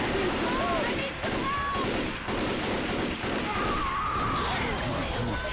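Rapid gunfire bursts from the video game Left 4 Dead 2 crackle continuously beneath players talking over one another, with dense repeated shots and no pause.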